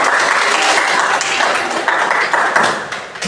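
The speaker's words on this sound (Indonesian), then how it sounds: "Tepuk keren." A classroom of pupils performs the "tepuk keren" clapping routine, bright patterned claps from many hands filling the room steadily for a few seconds, with some voices mixed in.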